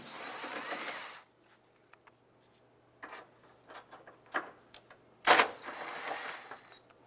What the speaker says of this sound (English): Remove the two upper 10mm bolts